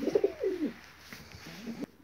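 Racing pigeons coo close by in two soft, throaty bursts separated by a brief pause, with nothing else over them.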